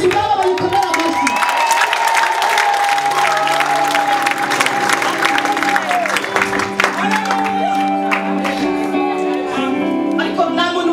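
Congregation applause at a church service: loud, sustained clapping and cheering from a crowd fill the space throughout, while a sustained voice or singing carries over the top.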